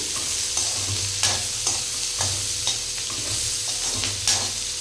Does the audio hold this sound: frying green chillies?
yes